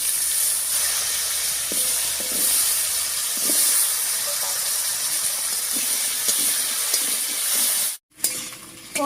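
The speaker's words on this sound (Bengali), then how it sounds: "ফোড়নের উপরে আলুটা দিয়ে নাড়িয়ে নিয়েছি," Potatoes fry in a hot spice tempering with a steady loud sizzle and hiss, occasional utensil clinks from stirring, and a brief break near the end.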